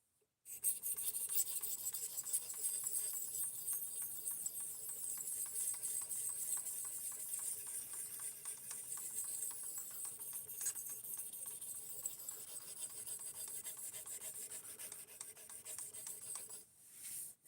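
Steel blade of a Divo Fireball S90V knife rasping rhythmically across a 1200 grit sharpening stone at 17 degrees per side, a close, quiet, continuous series of scraping strokes with no talking.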